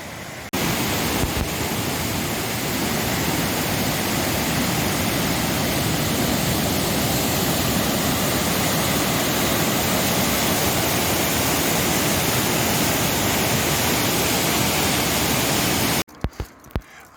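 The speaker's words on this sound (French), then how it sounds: "Voici la rivière l'Aubonne." The Aubonne river flows nearby as a loud, steady broadband rush of water that holds unbroken for about sixteen seconds, then cuts off abruptly, with no voices.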